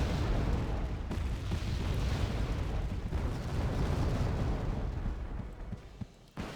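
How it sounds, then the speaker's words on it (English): Mortars firing in the Wargame Red Dragon video game make a dense, continuous rumble of booming artillery blasts that roll into one another, loud and sustained throughout with no talk over them. "And mortars firing onto that town."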